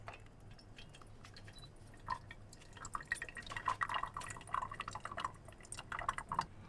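Melted parmesan cream trickles and drips into a cream siphon, with faint liquid patter and small splashes growing denser toward the end, quiet and close with no talk.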